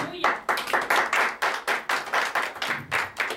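A church congregation claps hands together in a fairly regular rhythmic beat, close and moderately loud, with a few voices mixed faintly into the clapping.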